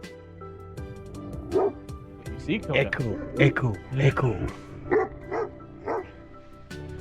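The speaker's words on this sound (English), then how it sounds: "They had that beautiful deep bark." Several deep barks from Anatolian shepherd dogs in quick bursts, near and loud, with a brief spoken word at the start.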